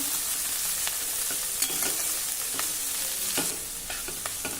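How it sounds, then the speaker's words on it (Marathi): Washed, chopped chivai greens stirred in a hot pan with red chilli powder, a steady bright sizzle and frying hiss running throughout, broken by repeated scraping strokes of a spatula, close up with no voices. "आणि ही धुवून कापलेली चिवईची भाजी घालू आता आपल्याला हे नीट मिक्स करायचं आहे"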